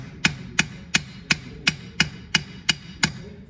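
Nine sharp, evenly spaced taps of a ball peen hammer striking metal while setting a handle on a metal frame, each a bright ringing knock at roughly a third-second intervals, close and clear with no talk.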